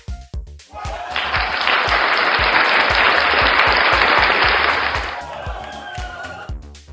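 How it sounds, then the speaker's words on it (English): A crowd at a stage show bursts into loud, sustained applause and shouting that swells and then fades, over a pounding musical beat. "You flash a smile and the crowd shouts even louder."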